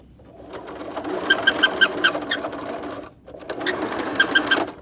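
A sewing machine stitches a face mask in two bursts of rapid, rattling stitching with squeaky, chirping tones over the mechanical whir, separated by a brief pause.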